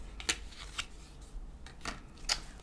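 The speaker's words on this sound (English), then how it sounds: "I shuffled these very thoroughly." A deck of tarot cards is shuffled by hand in quiet surroundings, giving several short, soft riffling bursts spaced irregularly apart.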